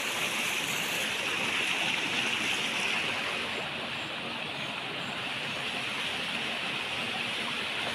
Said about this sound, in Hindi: ऊपर से नीचे आ रहा है पानी।